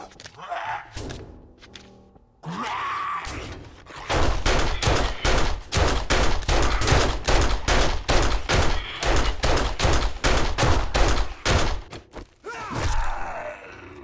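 Gunfire aimed at a zombie in 7 Days to Die: after a few thuds, a long run of rapid, evenly spaced shots lasts about eight seconds, loud and close, then stops.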